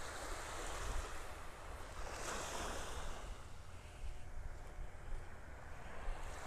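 Calm surf at a beach in North Naples, Florida, on a spring morning: a steady, continuous wash of small waves with some wind rumble on the microphone, fairly faint and without speech.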